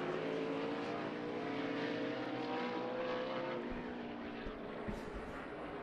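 A NASCAR Cup Series race car driven by Kyle Larson in practice at Sonoma, a sustained droning engine note that holds steady and then fades slightly as it passes at a distance, with no voices.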